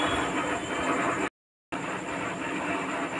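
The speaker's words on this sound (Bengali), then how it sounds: "মেশিনে বসে সেলাই করছি বলে আরও বেশি গরম করছে।" A sewing machine runs continuously while stitching small sweet bags, a dense, steady close-up whir that cuts out completely for about half a second and then resumes. There is no speech.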